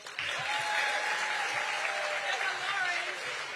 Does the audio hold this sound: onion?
no